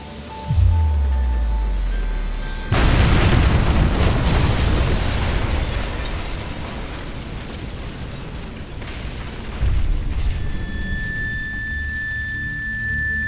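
A big explosion at a wedding: a loud booming blast that hits suddenly, then a long rumbling roar with debris and crackle, swelling again near the end, with no talking.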